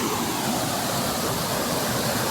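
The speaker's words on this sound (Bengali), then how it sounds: "গেট খুলে চলে এসছে এত জলের স্রোত" Rushing water pours through a raised sluice gate on a village field channel in the Sundarbans, a steady, loud broadband roar that holds without a break and drowns out everything else.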